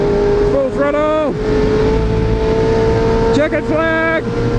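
A race car engine held at full throttle on the final corner, a steady loud drone with two rising and falling revving sweeps, likely gear changes, one early and one near the end.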